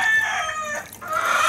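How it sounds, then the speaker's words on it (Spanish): A hen clucks loudly and close by in a short, harmonic, drawn-out cackle that dips briefly midway and then rises again, heard on its own. "y el cantado de esa gallina, ¿qué significa?"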